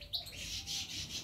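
Goldfinch chicks being hand-fed by syringe inside a breeding cage give a steady run of high, thin chirps and cheeps, close and fairly soft, with no talking.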